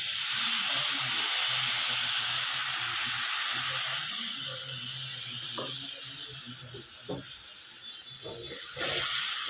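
Jackfruit pieces fry in hot oil as a wet mustard paste goes into the pan. A loud hiss and sizzle erupts at first, then slowly settles, with soft stirring clicks underneath. There are no voices.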